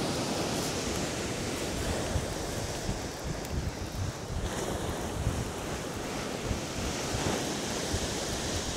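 Waves break continuously on the shingle shore of Chesil Beach, a loud, steady rush of surf with wind buffeting the microphone and no talking.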